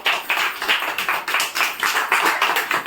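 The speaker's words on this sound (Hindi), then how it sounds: "जोरदार तालियां" Rapid clapping from a small group, brisk and close, lasting a few seconds without a pause.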